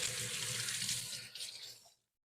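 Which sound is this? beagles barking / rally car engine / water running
water running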